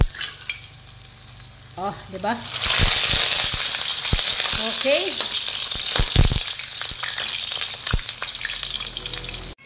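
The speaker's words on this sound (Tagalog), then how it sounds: "Prito na natin." Marinated milkfish (bangus) frying in a hot pan for breakfast, a steady loud sizzle and crackle with occasional spatters and utensil clinks, while someone speaks briefly over it.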